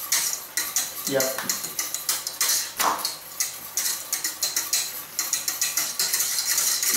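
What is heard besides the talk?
whisking egg for mandarin sauce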